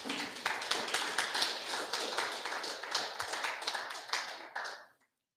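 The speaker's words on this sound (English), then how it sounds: "Let's give him a round of applause here." An audience claps together in steady applause at a gathering on Ojibwe teachings. The dense clapping stays even and fairly distant for about five seconds and then stops abruptly.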